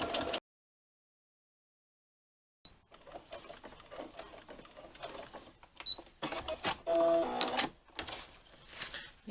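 A sewing machine stitches a box seam on a lilac messenger bag at a short 1.8 stitch length, running in uneven bursts of rapid mechanical clatter after a short silent pause.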